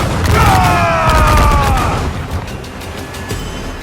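Ship cannons firing in the naval combat of Assassin's Creed 4 Black Flag, a rolling volley of deep booms with rumbling low end and some mechanical creaks, loud and close.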